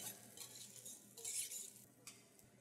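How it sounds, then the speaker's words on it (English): Croutons fry in olive oil in a pan with a steady soft sizzle, broken by occasional louder clinks and scrapes of a utensil stirring them, heard close and without any voices. "So we've added our olive oil to these croutons. They're kind of frying now."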